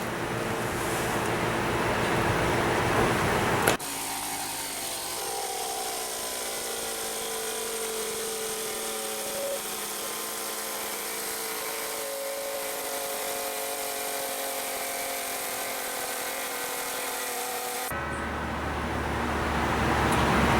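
A McGraw 20 gallon air compressor runs steadily while building tank pressure, a loud, continuous motor and pump drone with a tonal hum that holds unbroken for about fourteen seconds between quieter stretches.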